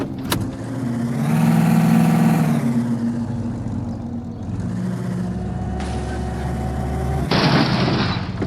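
A car engine revs hard, then a heavy crunching impact and rumble as the car smashes into a house, loud and close.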